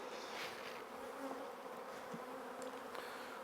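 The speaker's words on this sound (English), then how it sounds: "Just shake the bees off." Honey bees hum in a dense, continuous buzz around a brood frame lifted from an open hive, steady and close with no voices.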